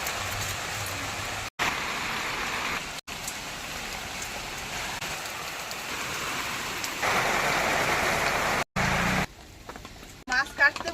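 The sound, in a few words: rain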